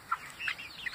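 Leghorn and White Plymouth Rock hens clucking in a homestead flock, a few short soft clucks and chirps scattered across a second at moderate distance, with no talk.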